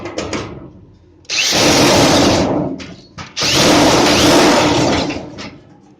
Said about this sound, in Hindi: फिर इसको आप ड्रिल मशीन की मदद से